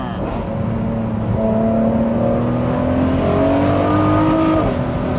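Ferrari 599 SA Aperta engine accelerating on a forest road, its loud steady drone climbing through gears with a shift near the start and another pitch rise toward the end, heard from inside the car.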